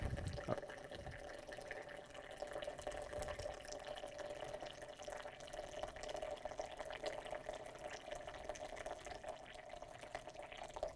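Hot water pours steadily into a French press of coffee grounds, a continuous close trickle and splash with a faint ringing tone, heard without talk.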